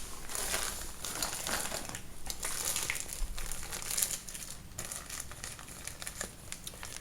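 Gorilla tape and other gear being pulled out of a bicycle pannier, a steady close crinkling and rustling of bag material and packaging that runs throughout, with no talk.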